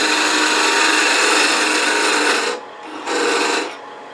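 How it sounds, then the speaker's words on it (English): Wood being turned on a lathe, a tool cutting a tenon on a finial cap for an ornament, gives a steady rasping scrape that stops briefly twice near the end and then resumes. "So let's just turn that tenon down."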